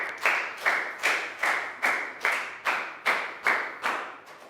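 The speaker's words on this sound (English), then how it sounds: "Big round of applause for Lakaw." A classroom of young students clapping for a classmate during an English lesson: about ten sharp, evenly spaced unison claps in a steady rhythm, close and clear, with no talk.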